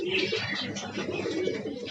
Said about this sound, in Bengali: দেখতে পাচ্ছেন লোটন কবুতর, এটা হচ্ছে লোটন কবুতর।